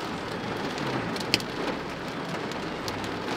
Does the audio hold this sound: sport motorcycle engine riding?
no